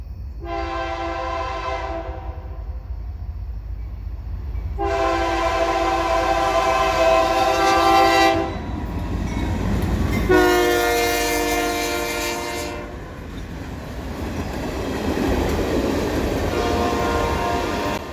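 Union Pacific 1988, the Missouri-Kansas-Texas heritage diesel locomotive, leads a freight train with run-through BNSF power on the CSX Columbus Subdivision, sounding several long, loud horn blasts over steady engine rumble and rolling wheel noise.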